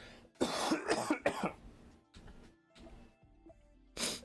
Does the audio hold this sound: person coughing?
yes